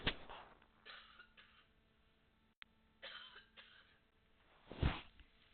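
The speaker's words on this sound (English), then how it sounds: "Oh, sorry, I got a cough." A person coughs and clears their throat, a few muffled rough bursts spread across the stretch with a sharper, louder cough near the end, all against quiet room noise.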